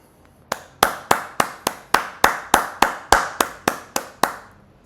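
One person claps alone, close and loud, about fourteen evenly spaced slow claps in a steady deliberate rhythm, each sharp smack ringing briefly before the next.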